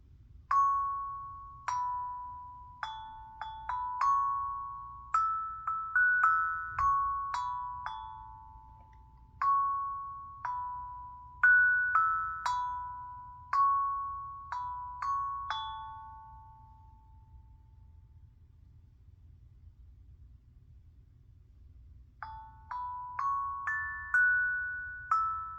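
Tongue drum notes struck one after another in short melodic runs, each tone ringing and decaying with a soft metallic shimmer, close and gentle, with a pause of near silence before a few more notes.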